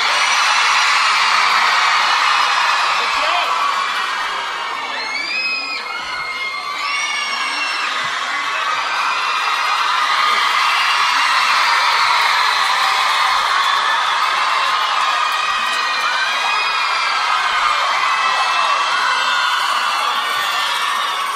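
Large audience at a 2010 concert at the Wiltern cheers, screams and whoops nonstop, with piercing high shrieks rising above a loud, sustained roar.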